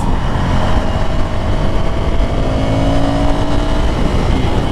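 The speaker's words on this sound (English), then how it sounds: "Exhaust sounds a little better, bit better stock on this than on my SV650." A Ducati Scrambler 800 Café Racer motorcycle with stock exhaust drones steadily while riding, a loud continuous engine roar with gently shifting pitch and no talk over it.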